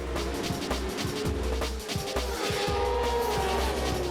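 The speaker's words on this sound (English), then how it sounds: "This is sidecar racing" Sidecar racing outfits on a track in Leicester, United Kingdom, their engines roaring continuously and loud, with repeated revving pulses and occasional tyre squeal as they pass close by.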